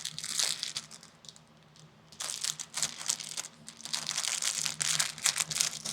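A plastic shipping bag crinkles and crackles as hands struggle to tear it open, a close, continuous rustling that pauses briefly before growing louder again.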